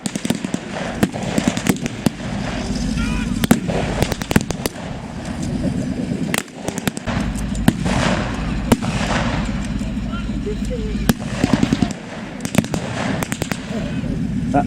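Rapid bursts of tank-mounted machine gun fire at a WW2 battle re-enactment at Fortress Wales, loud and continuous, with dense overlapping cracks and booms over a steady rumble, voices faintly in the mix.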